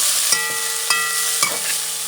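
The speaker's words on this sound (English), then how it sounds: "Continue mixing." Spoon scrapes through a pan of Puerto Rican stewed chicken wings with chopped garlic and cilantro, giving about four evenly spaced stirring strokes over a low steady simmer and faint hum.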